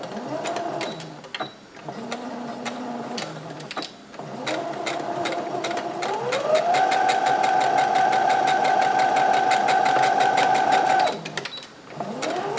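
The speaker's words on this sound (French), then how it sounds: "Et donc là, on coud sur la couture." A domestic sewing machine stitches along a seam of outer fabric for a tote pouch, close and steady, running in short bursts that rise in speed before one long sustained whirring run, then stopping.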